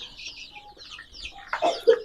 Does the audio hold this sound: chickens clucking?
yes